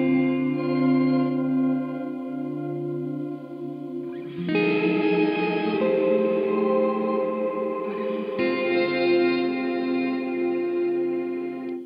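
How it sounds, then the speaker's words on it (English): Chase Bliss Dark World dual-channel reverb pedal giving a shimmer reverb on a sustained instrument, lush layered chords with bright octave-up shimmer swelling and changing in two stages, loud and washy. "if you just want a straightforward shimmer reverb"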